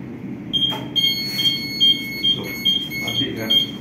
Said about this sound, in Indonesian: Kalau gas bocor, dia udah sampai levelnya, dia akan bunyi